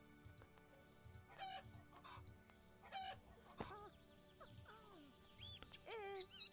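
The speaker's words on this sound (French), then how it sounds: "Ah, c'est une poule." Hen on a farm in the video game The Stillness of the Wind, with scattered clucks and short squawking calls repeating at irregular intervals, fairly quiet, together with a few low thumps.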